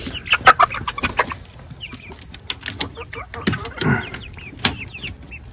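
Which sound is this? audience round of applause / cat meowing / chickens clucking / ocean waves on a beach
chickens clucking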